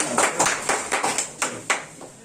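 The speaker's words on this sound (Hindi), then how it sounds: "तो जोरदार ताली से इनका स्वागत कीजिए" A small group greets a newly selected Agniveer army recruit at a 2023 Army recruitment event, clapping close by in an uneven, slightly rhythmic burst of sharp claps with no talking.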